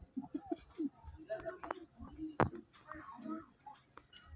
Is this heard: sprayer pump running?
no